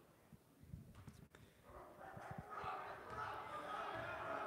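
Upper Dublin home crowd barking in unison at an opposing player at the free-throw line during a high school boys basketball game in a gym; a dense crowd roar builds and swells after a quieter, scattered start.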